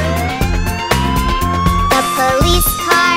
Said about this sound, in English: Police car siren goes woo, woo, woo, woo, woo, woo, woo, woo, woo.